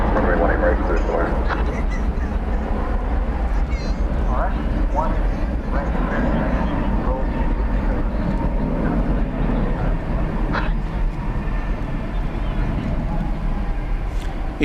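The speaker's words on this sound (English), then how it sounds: "Airbus A321 now is rolling" An Airbus A321 rolling on the runway at Dallas Fort Worth International Airport at night, a broad, steady engine roar heard from a distance, with a commentator talking over it.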